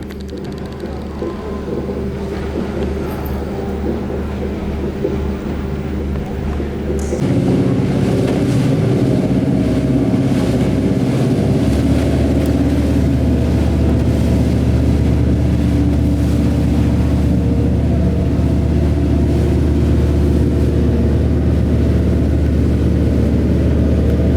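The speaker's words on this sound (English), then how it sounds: "Oh look at this boat right here." A steady boat engine drone on open water off Nassau, Bahamas, growing louder and heavier partway through as the motor revs up, with wind buffeting throughout.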